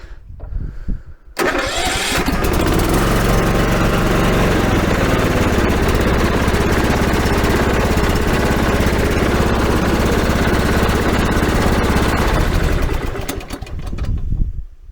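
A lawnmower engine, its solenoid bypassed with pliers, cranks briefly and catches, then runs loud and steady for about ten seconds before cutting out, with no talk over it.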